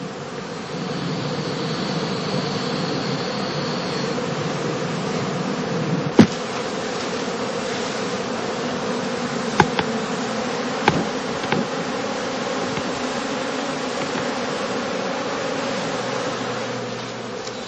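Honeybees swarm and drone around heather straw skeps in a heathland apiary during autumn work, a continuous close buzzing with a few sharp knocks and clicks breaking through.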